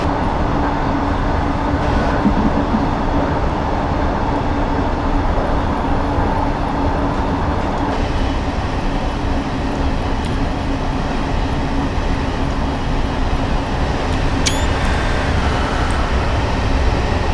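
A London Underground S8 stock train on the Metropolitan Line near Rickmansworth in the Train Simulator 2019 game gives a steady, loud running rumble with dense wheel and motor noise throughout, with no talking.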